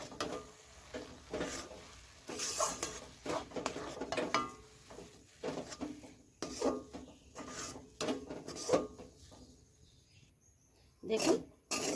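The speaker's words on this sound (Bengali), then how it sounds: "এবার এই চাল গুঁড়োটা দিয়ে দেবো এই দুধের সাথে, আর নাড়তে থাকবো।" Rice flour being stirred into hot milk and water in a pan, irregular scraping and rubbing strokes of a spoon in a close, uneven rhythm, with talking over parts of it.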